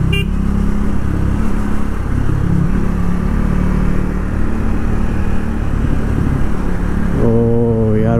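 A Triumph Speed 400 motorcycle runs at steady speed with a constant, loud engine drone and wind rumble throughout, and a rising engine tone toward the end as it accelerates.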